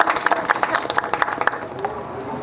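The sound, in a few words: audience applauding the singers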